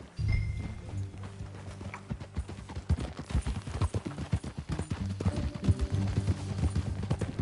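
Horse hooves clip-clop steadily at a ride in Red Dead Redemption 2, a continuous rhythmic run of close, fairly loud hoofbeats over a low droning game background.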